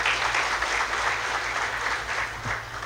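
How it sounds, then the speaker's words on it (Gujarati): Audience applause welcoming a new trustee at a hostel education event: steady, dense clapping from a crowd, sustained and fairly loud throughout with no talk over it. "નવા ટ્રસ્ટી તરીકે એને તાળીઓથી વધાવી"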